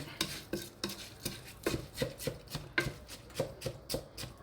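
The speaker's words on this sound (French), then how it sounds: "Là, je mélange bien" Rice with vegetables being stirred in a pot, a steady run of close scraping and clinking strokes from the utensil against the pot, repeating roughly twice a second, with no talk.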